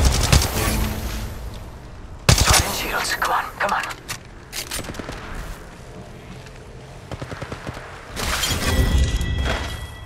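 Gunfire in Apex Legends during a squad fight: sharp bursts of rapid shots and cracking impacts come in clusters with pauses between them, loud and close, while a voice talks over the action.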